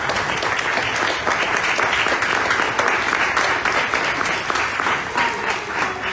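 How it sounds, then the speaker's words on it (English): A room gives a warm round of applause at an open mic music night, dense, continuous clapping that stays fairly loud and even for about six seconds. "Give her a round of applause."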